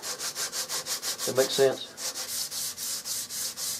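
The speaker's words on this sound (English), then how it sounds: "So this gets just as well sanded here as this does" Sandpaper at 120 grit rubs back and forth on the wooden stock of an H&R Model 12 target rifle in a steady, even rhythm of rasping strokes, close up, with a brief spoken question partway through.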